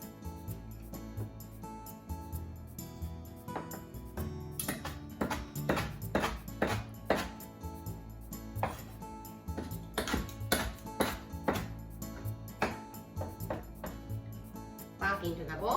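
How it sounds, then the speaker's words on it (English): A knife chops kimchi into smaller pieces on a cutting board, giving a series of crisp, uneven cuts close by, set against steady background music. "Sometimes one piece is too big like this, so let's cut it into smaller pieces."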